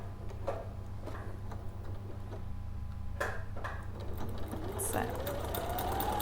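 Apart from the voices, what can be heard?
sewing machine stitching fabric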